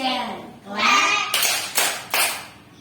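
Kindergarten children chant together about transportation, then clap three sharp, evenly spaced times in rhythm, close and loud, with their voices ringing before the claps.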